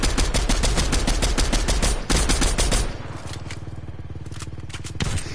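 MK Alpha rifle in a video game: rapid automatic gunfire cracks loud and close, then gives way to a quicker mechanical reload clatter with a final click and a burst of firing.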